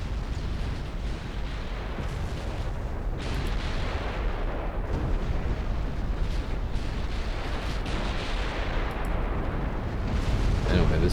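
Continuous heavy naval artillery fire in the Ultimate Admiral Dreadnoughts game as a battleship takes hits from all angles: dense overlapping booms and rumbling blasts, loud and unbroken for the whole stretch, with no voices.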